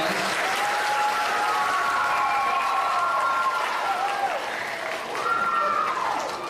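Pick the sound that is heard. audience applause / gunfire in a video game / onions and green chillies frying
audience applause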